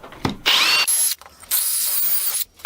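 An electric drill bores into a wood-turning piece in close, loud bursts: a short whine, a pause, then a longer steady run with a high-pitched squeal before cutting off.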